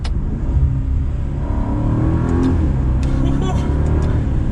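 A 2021 Maserati Ghibli Trofeo engine rumbles from inside the cabin, its pitch rising and falling as revs blip on downshifts to second gear, a steady low drone throughout.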